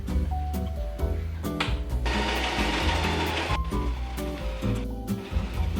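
A sewing machine stitches the lining of a crochet bag, a steady close mechanical whirring with rhythmic clicks that swells louder in the middle section, running alone without talk.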